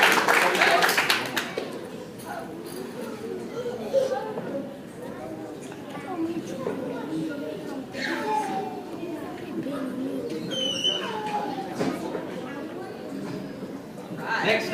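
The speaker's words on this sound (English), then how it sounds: "Round of applause for you guys who are part of the team." An audience at a Kroc Center basketball award ceremony gives a short burst of clapping for a team, loud at first and then quickly fading as a presenter talks over scattered claps and murmurs.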